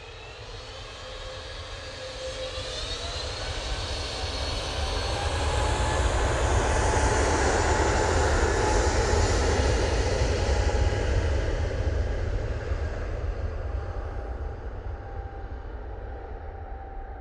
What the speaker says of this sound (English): A320neo going back to Munich now.